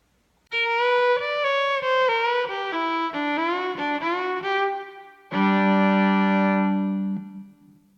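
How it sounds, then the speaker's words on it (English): A violin plays a sequence of sustained notes, then a long held note, with the pitch sliding slowly and smoothly between two semitones. "a slow, deliberate slide, making distinctly audible the joining of the two semitones"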